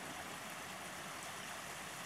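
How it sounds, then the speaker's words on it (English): A small creek runs with spring meltwater near a driveway during maple syrup season, a faint, even, continuous rush of flowing water with nothing else over it. "And the little creek is running, which is a good sign."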